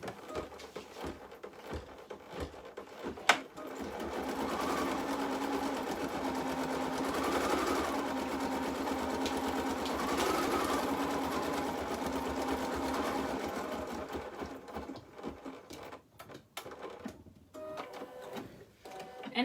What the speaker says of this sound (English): So now I can put my hoop back on my machine and I'm gonna stitch the placement line